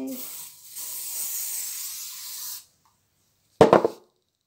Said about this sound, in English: I'm gonna set this with the spray.